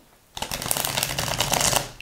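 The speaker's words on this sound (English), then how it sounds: "I want to see how these shuffle." A deck of tarot cards being shuffled up close, a quick continuous riffle of crisp slapping and fluttering that lasts under two seconds after a brief silence.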